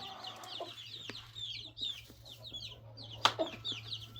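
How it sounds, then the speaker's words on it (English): Chickens cluck in a barn, a run of soft repeated clucks and a few sharper calls at moderate distance over a low steady hum. "You silly chickens."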